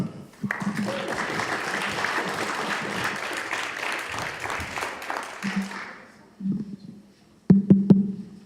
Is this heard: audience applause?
yes